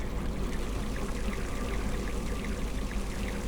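Water pours steadily into a steam locomotive's water tank at a station in a train video game, a continuous gushing splash with no break or voices.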